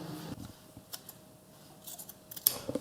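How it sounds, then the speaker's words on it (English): Blunt, stiff scissors trim the seam allowances on a tailored suit jacket, giving a few short crisp snips and rustles of fabric at close range with no talk. "Oh, the scissors are really so blunt and stiff."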